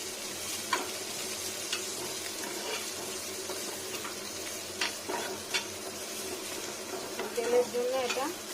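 Tender neem leaves and eggplant, salted, cook in mustard oil with a soft, fairly quiet sizzle and occasional stirring scrapes and clatters that grow busier toward the end; no speech.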